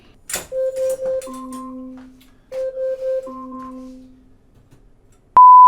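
Two short bursts of synthetic beeps in quick patterns from a kitchen timer, separated by a pause, followed by a sudden sharp electronic tone at the end.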